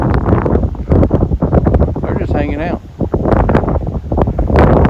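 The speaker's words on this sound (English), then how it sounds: "Very windy, y'all." Strong wind buffets the microphone in rough, loud gusts in Fredericksburg, Texas, while a person speaks briefly over the rumbling noise.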